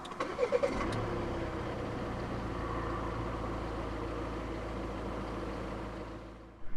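A 2016 Volvo V60 2.0 D4 diesel cranks briefly and catches, then settles into a steady, close low idle that runs on without a break.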